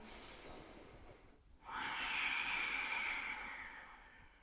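A deep breath during a hatha yoga routine: a slow, airy inhale fades into a brief pause, then a long, strong, hissing exhale follows, close and clear in a quiet room.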